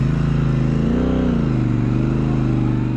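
A Triumph Speedmaster motorcycle with a stock exhaust pipe runs nearby, its engine note rising slightly then settling into a steady, throbbing rumble, alone and continuous.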